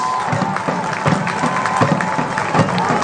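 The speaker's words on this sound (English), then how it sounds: "Smatters of applause echo across Finland." Scattered applause and light cheering from a stadium crowd at a New York Cosmos at Chattanooga FC soccer match, a dense, distant wash of clapping with no voices over it.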